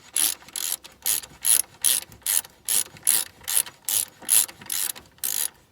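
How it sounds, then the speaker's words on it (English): A ratchet with a 16 mm socket tightens front sway bar bolts on an R56 Mini Cooper S, about a dozen evenly spaced, crisp clicking bursts close to the microphone. "Now I'm going to grab my 16 millimeter, go ahead and tighten those."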